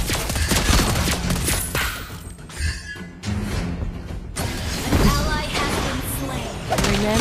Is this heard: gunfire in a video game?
yes